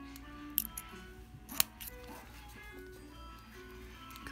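Scissors cutting a doll out of its packaging, a few quiet snips and plastic clicks up close, with a person talking softly in the background.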